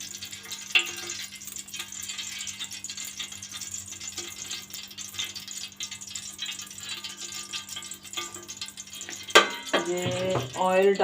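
About one and a half cups of cooking oil go into a hot pan for chicken fried rice, with a steady frying hiss and clatter that swells into a louder, busier sizzle toward the end.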